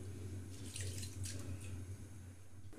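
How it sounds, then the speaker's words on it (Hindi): Soaking water drains from swollen rice being strained for chicken biryani, a faint, steady splashing trickle running continuously close by, with no talking. "इसका पानी छान लेंगे।"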